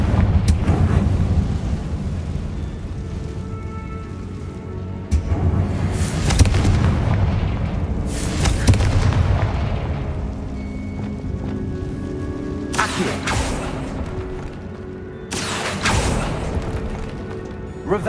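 A Confringo blasting spell from the video game Hogwarts Legacy sets off repeated loud booming explosions, several sharp blasts spaced a few seconds apart over a constant rumbling game background.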